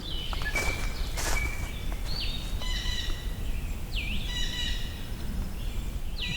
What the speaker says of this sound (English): The trill here could be dark-eyed junco,